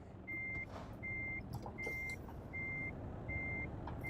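Reversing beeper on a truck backing a trailer into place in Euro Truck Simulator, a steady series of five evenly spaced electronic beeps over a continuous engine rumble, with no talking.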